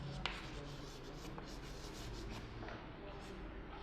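Writing on a classroom board during an English lesson, a soft continuous scratching and rubbing over a steady room murmur, with faint voices in the background.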